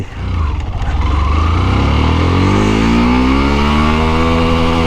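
Yamaha FZS V2 motorcycle accelerating hard through first, second and third gear, a loud, close engine roar that climbs steadily in pitch without a break for nearly five seconds, with no talking.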